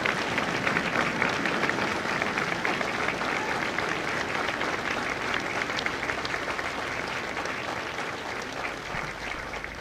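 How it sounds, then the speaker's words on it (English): At a Marine Corps recruit graduation ceremony, a large outdoor audience claps steadily and evenly for Marine veterans, a sustained, dense roar of hands throughout. "Ladies and gentlemen, a round of applause for their dedicated service to corps and country"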